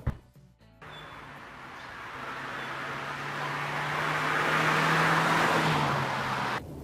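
A Mercedes-Benz C180 drives in Eco mode, held in high gears at low revs, a steady low engine drone with rising road and wind rush heard from inside the car, fairly loud and continuous.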